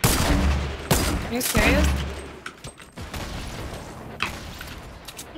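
Sniper and other gunfire in Fortnite Battle Royale crack out in a few sharp, loud shots, with a burst of overlapping fire near the start, while a player's voice briefly speaks over the action.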